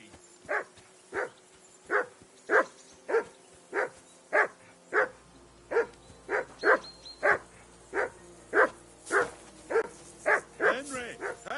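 A dog, a scruffy mutt, barks in a steady run of about fifteen sharp, loud barks close by, turning into whiny, fussing yelps toward the end.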